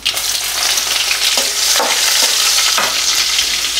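Mustard seeds and two dried chillies fry in hot oil for tempering, giving a steady, loud, close sizzle with faint popping and stirring scrapes throughout.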